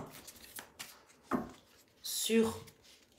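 Tarot cards being shuffled and drawn during a reading: soft papery riffles and slides, a sharp brief card snap near the middle and a louder shuffling burst toward the end, with a voice speaking in between.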